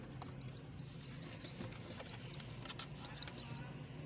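Pigeons at their nest with young in cold December weather flap their wings in several short bursts, soft to moderately close, with faint bird sounds in between.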